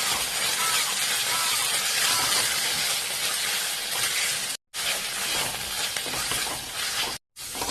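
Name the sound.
onions frying and sizzling with spices in a pan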